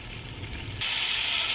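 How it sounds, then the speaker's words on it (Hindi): Chicken pieces hit hot oil and break into a bright, steady sizzle that jumps suddenly in loudness and holds as a close, continuous crackling fry. "ऑयल में हम डालेंगे चिकन। चिकन को हम 3 से 4 मिनट तक फ्राई करेंगे।"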